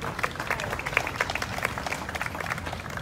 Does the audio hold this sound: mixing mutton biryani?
no